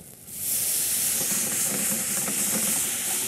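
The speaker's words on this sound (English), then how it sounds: "Now, what the brandy is going to do is it's actually going to get the bits and pieces off the bottom of the pan. So it's going to deglaze the pan." A pan deglazed with brandy during a live cooking demonstration aboard the Queen Mary 2 gives off a loud, steady rush of steam and hiss that swells in quickly and keeps going with no speech.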